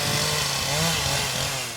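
Chainsaw carving a large wooden statue outdoors, its engine droning steadily and fairly loud throughout a short burst.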